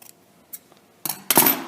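Scissors snip through cotton wick for building vape coils, giving a few short, close crisp cuts near the end after a quiet lead-in.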